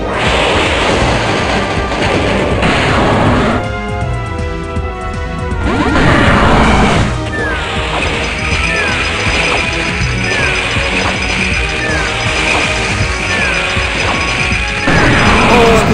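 Pokémon Go battle against Giovanni, a Hydro Pump attack in the mobile video game: loud, dense crashing and mechanical clattering effects with whooshing bursts over steady background game music, no talk.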